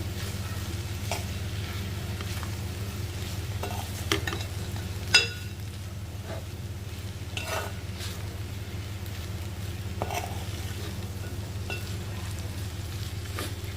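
Ivy gourd pakodis fry in a pan with a soft, steady sizzle and bubbling, joined now and then by faint clinks and scrapes. The frying continues throughout, close but gentle.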